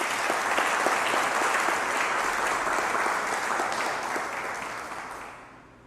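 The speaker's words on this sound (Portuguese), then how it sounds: "Vamos dar outro aplauso a Jesus." A church congregation claps in praise during a sermon, a dense and sustained wash of hands from many people that holds steady before fading away near the end.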